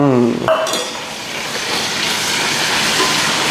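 Onions and chillies sautéing in a pan for chicken kurma produce a loud, steady, hissing sizzle after a brief voice at the start.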